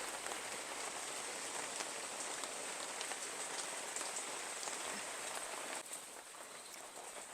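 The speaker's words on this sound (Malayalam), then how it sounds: "നല്ല മഴയാണ് പെയ്യുന്നത്" Heavy rain pours down steadily outdoors, a dense loud patter of drops on surfaces that eases slightly near the end.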